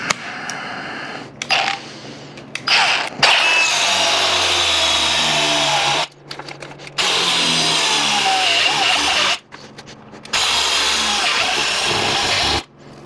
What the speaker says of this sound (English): Okay, so Sawzall didn't work. Go to the cutoff wheel.